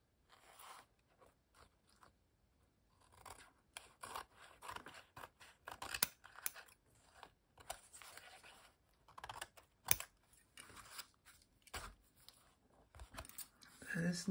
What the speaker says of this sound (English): then I will cut the edges clean